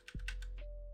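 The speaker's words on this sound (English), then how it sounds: "Only I could type." Several quick keystrokes on a computer keyboard, close and clear over a steady low hum, with a brief pause before the last tap.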